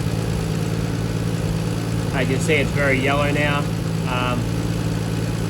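A turbocharged Nissan Skyline R33 engine with exhaust gases getting into its coolant idles with a steady, continuous low hum from start to end while someone talks over it.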